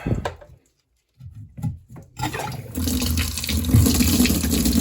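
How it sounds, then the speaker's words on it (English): A few clicks and handling noises, then a steady, full rush of water pouring from a laundry sink faucet with its aerator removed, running to the end. "before we turn the water on, let's take the aerator out"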